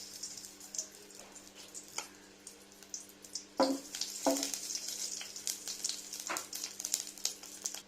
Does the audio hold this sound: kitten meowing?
no